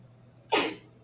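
A single sharp sneeze bursts out in a quiet classroom during a math lesson, loud and brief with a quick breathy onset, then silence.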